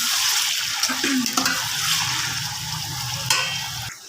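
Chicken pieces frying until golden in a pot for chicken pulao, a steady soft sizzle with a few stirring scrapes and clinks, no talking.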